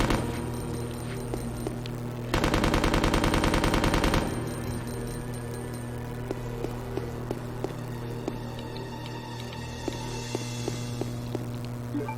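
Rapid automatic gunfire aimed at zombies in Resident Evil Code Veronica X on GameCube, a dense burst of about two seconds over a steady low game hum, then quieter scattered clicks and ambience.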